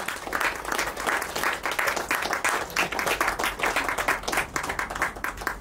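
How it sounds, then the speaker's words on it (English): Steady applause from an audience at an award show fills the whole stretch, with dense, even clapping and no talk over it. "Please give me a big round of applause."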